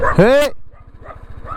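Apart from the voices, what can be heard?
dogs barking and running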